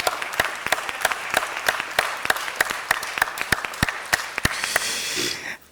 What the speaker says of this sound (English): let's do a warm round of applause for the rest of the people that are still coming up today